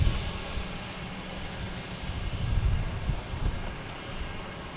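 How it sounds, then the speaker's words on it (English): United Airlines Airbus A321 departing runway 22 right at Boston Logan, a low, steady engine rumble that swells slightly as it rolls, fairly distant and continuous with no talk. "United Airlines, an A321 heading to Denver, flight 2340, taking off on 22 right"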